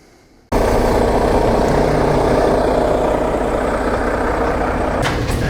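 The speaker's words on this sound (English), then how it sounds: "While we're grabbing the skid steer to pull this bed out of the shop here" A skid steer engine starts running close by in a work yard after half a second of quiet, then holds a loud, steady idling drone to the end.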